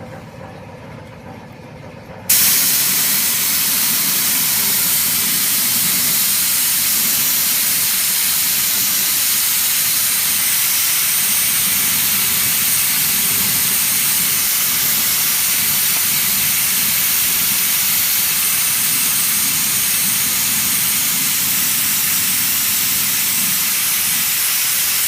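Automotive seam sealer sprays onto car body seams in a steady, loud pneumatic hiss that starts abruptly and runs continuously and unbroken, close by with no talking.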